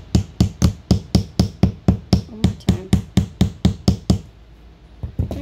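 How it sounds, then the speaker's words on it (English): A hammer pounds a wooden Harry Potter ornament in a rapid, evenly spaced series of about fifteen loud, close knocks, then stops; a voice speaks briefly near the end, followed by a few softer taps. "Later, I'm going to hit it with my hammer."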